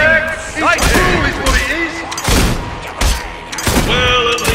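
Gunfire in the video game Fable 2: a few sharp, loud shots burst out at irregular moments, mixed with voices and game sounds.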